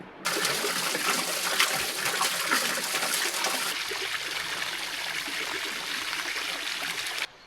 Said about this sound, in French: Putain, la cascade, elle est là-haut.